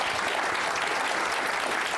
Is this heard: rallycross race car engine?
no